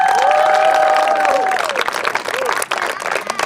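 Audience applause at a school event between Abovyan 2017 and Academy 2017 classes, a dense loud clapping wash with some cheering, a tonal sound sliding down early on, steady throughout the clip.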